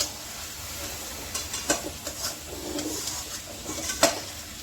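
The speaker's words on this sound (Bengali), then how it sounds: "এখন আমি ঢাকাটা তুলে আস্তে করে এই দিক দিয়ে নাড়িয়ে দিচ্ছি অল্প করে" Kachki fish curry stirred slowly in a pan, with soft scraping strokes and a light sizzle in the background, a few distinct spoon scrapes standing out against steady frying hiss.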